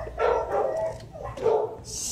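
Dog at an animal shelter, a four-year-old, giving two short barking bursts close to the microphone during a training session, with no speech.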